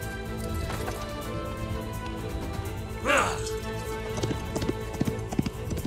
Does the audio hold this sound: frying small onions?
no